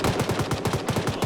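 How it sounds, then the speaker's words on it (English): Rapid repeated sharp blasts of mortar fire in a military video game, a fast even burst of about a dozen close, loud thumps with no talking. "I'm about to mortar the position."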